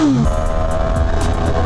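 BMW M1000RR superbike engine idling at a supercar show in Tampa, a steady low throbbing rumble close by with a brief rising note at the start, running continuously without pause.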